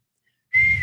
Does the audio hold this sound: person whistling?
yes